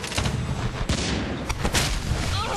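Warcraft III mortar team firing in a match, a dense cluster of booming shots and crackling impacts layered with battle noise, loud and continuous over a couple of seconds with no talk.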